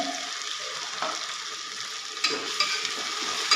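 Ginger-garlic paste sautés in a pan for dal khichdi, making a low, even sizzle with a few clinks and scrapes of the spoon near the end.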